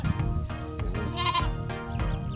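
A goat on a farm gives a few loud, nasal bleats in quick succession, close to the recorder.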